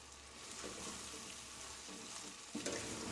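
Bulgur pilaf with artichokes and chopped green onions being stirred in a pan: a steady close sizzle with soft scraping throughout, then a brief louder clink or scrape near the end.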